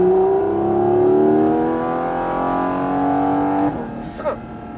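A Porsche GT4 RS engine screams under full throttle, rising steadily in pitch through the rev range before a sudden lift-off drops the note, with a voice speaking briefly as the revs fall away.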